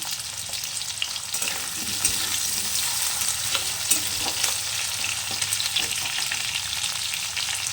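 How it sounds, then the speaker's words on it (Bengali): Potato pieces frying in a pan, a close, steady sizzle broken by stirring scrapes and small spatters, continuous and even with no voices. "আলুগুলো জাস্ট একটু ভেজে নেওয়ার পরে আমি কচুগুলো ভেজে নেবো"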